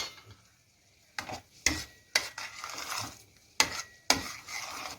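A spoon scrapes bulgur, green lentils and red lentils around a pot in about five separate strokes, each a short rasping sweep over a faint background hiss.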